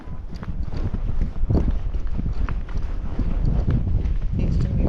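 A Tennessee Walking Horse paces uphill, its hooves making a steady, busy clip-clop at close range over rustling ground noise, with a voice talking alongside.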